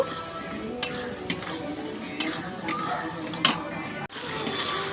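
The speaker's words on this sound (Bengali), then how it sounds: "ডাঁটাটার সাথে আমি মশলাগুলো ভালোভাবে কষিয়ে নেব।" Spices being stirred and fried with vegetable stalks in a pan for shukto, with soft scraping, a few sharp spoon clacks against the metal and a low sizzle underneath.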